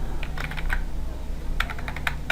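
CSS code is typed on a computer keyboard in two quick bursts of close, crisp key clicks separated by a short pause, with no voices.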